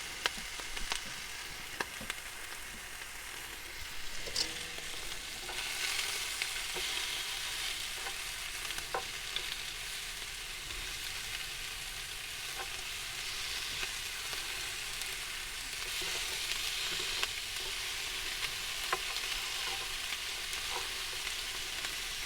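Pork ribs sizzle and spit steadily in a hot pan as they brown, a continuous broadband frying hiss with occasional sharp pops and crackles, fairly quiet and close, with no talking.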